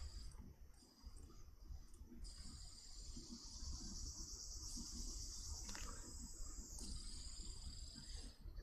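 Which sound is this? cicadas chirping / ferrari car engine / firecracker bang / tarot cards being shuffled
cicadas chirping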